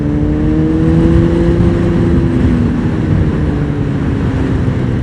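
A Honda Fireblade CBR1000RR Repsol sportbike fitted with a Yoshimura slip-on exhaust, running at a steady, fairly loud, smooth engine drone. The tone sags slightly partway through and is heard alone, with no talking.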